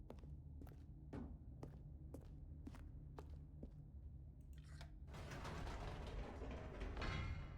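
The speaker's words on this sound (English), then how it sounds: "Let's go back up the elevator then." Elevator ride in The Stanley Parable, starting with evenly spaced footsteps, then mechanical clanks as the lift starts and a louder humming, rumbling climb, all game sound with no talking.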